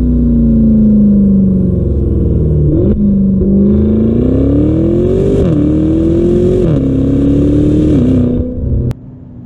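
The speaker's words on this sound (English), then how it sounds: "And it just gets up to the RPM so quickly." A 580-horsepower Maserati Levante V8 Ultima SUV accelerates hard with a loud, close engine roar. Its pitch climbs and drops back at each gear change, and the roar cuts off sharply at the end.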